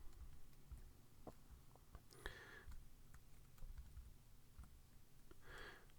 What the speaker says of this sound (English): I'm just going to type this into the